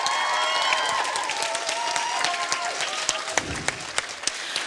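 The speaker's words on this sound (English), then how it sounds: "So let's have a round of applause for everybody." Applause from a school concert audience at a young singer competition fills the room with dense, steady clapping and some cheering, carrying on for several seconds while a few sharp individual claps stand out toward the end.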